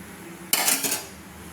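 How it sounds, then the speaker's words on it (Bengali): Boiled chow mein tipped into a steel colander in a home kitchen, a single sudden metallic clatter and splash that fades within half a second, heard alone. "এবার আমি একে একটা স্টিলের ঝুড়িতে ছেঁকে নেব"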